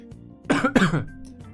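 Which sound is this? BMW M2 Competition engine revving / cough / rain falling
cough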